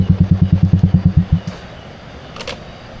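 A motorcycle engine close by at a parking spot, chugging in a rapid, regular pulse for over a second before cutting off, leaving a quiet background with a brief faint clatter.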